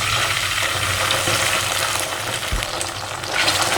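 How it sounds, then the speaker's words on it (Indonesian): Tomato sauce hitting sautéed garlic in a hot pan, a loud, steady, dense sizzle that crackles continuously with a brief stir midway and no voices. "lalu kita akan tambahkan saus tomat ke dalam tumisan bawang putih ini"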